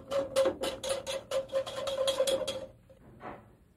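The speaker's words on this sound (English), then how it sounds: "And just whisk it together to combine it." Sugar, vanilla and a pinch of salt are whisked together in a bowl: about ten quick, evenly spaced metallic strokes ring against the bowl, then a short pause and one softer final stroke.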